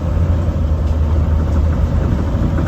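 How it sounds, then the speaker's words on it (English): A 7.3L Powerstroke E450 4x4 adventure truck driving along, with a steady low engine drone and constant broadband road rumble, the body and cargo box vibrating and rattling throughout at close range. "We have to compete with the truck vibrating, rattling."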